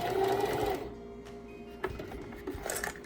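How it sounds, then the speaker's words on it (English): A sewing machine stitches a cotton produce bag, its dense, steady whir loud for under a second before easing into a quieter, lighter hum with a few small knocks. "just turning it and sewing down this end"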